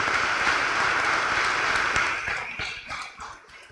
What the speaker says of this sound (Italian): Grazie Don Cesare, facciamo un applauso.